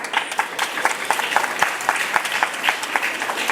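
An audience of students and teachers applauds at a school arts festival, with dense, steady clapping close by that lasts the whole few seconds and no voices standing out.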